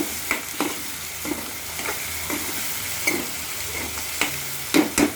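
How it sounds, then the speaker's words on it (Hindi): Muli (radish) vegetable with tomatoes, green chilli and salt is stirred in a hot pan, a steady soft sizzle under repeated close scraping strokes of a spatula, no voices. "अब मैं इसको मिक्स कर लेती हूँ।"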